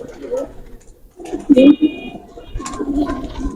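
Banke pigeons of Ustad Khan Dilawar Khan's breed give soft, low cooing in short bursts, close by, mixed with someone talking over them.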